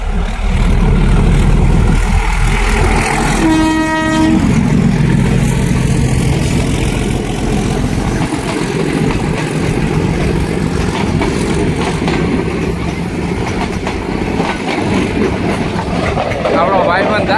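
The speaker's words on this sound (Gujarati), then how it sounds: "તો આવી છે આપણી ટ્રેન 3:30 વાગ્યાની. આ અમારા જંગલમાં ગીરમાંથી જાય છે ભાઈ." Passenger train running through the Gir forest: a short loud horn blast near the start over continuous rumbling and rattling wheels, the train passing close by for the whole stretch, with people talking in the background.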